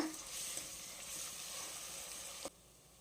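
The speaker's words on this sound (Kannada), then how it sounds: "ಒಂದು ಸ್ಪೂನು ಶುಂಠಿ ಬೆಳ್ಳುಳ್ಳಿ ಪೇಸ್ಟ್ ಸೇರಿಸಿ ಅದರಲ್ಲಿರೋಂಥ ಹಸಿ ವಾಸನೆ ಹೋಗೋವರೆಗೂ ಚೆನ್ನಾಗಿ ಎಣ್ಣೆಯಲ್ಲಿ ಫ್ರೈ ಮಾಡಬೇಕು" Ginger garlic paste fries in hot oil with a bright, continuous sizzle close by, faint stirring scrapes underneath, then the sizzle drops away abruptly near the end.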